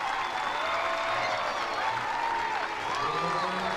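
Softball crowd at an NCAA championship game between Florida and Mercer cheering and clapping after a two-run home run to center field, a steady roar of applause and whoops with a commentator talking over it.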